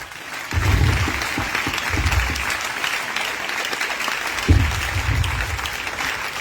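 A church congregation claps in praise during a French-language worship service, producing sustained, moderately distant applause with a rhythmic, thumping pulse throughout.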